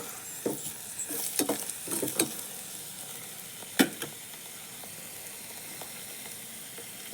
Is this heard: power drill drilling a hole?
no